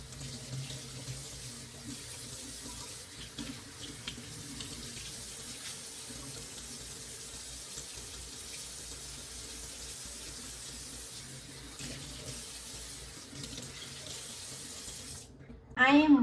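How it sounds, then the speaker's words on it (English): Running tap water pours steadily over an aloe vera plant being washed at a sink, a constant close splashing hiss that ends abruptly with a louder clatter. "the first thing I'm gonna start by doing is washing my plant."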